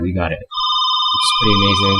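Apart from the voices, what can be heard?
phone ringing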